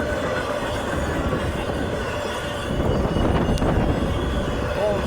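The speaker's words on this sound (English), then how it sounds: "the train's already there." A train rolls steadily past at La Crosse, Wisconsin, in snow, a continuous loud rumble of wheels with squealing and clatter that swells slightly in the second half.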